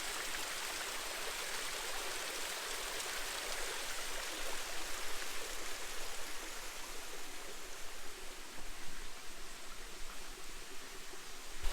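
A waterfall at Kaeng Nyui in Laos during a dry year with low flow, heard as a steady broadband rush of falling water, continuous and fairly even, with no voices.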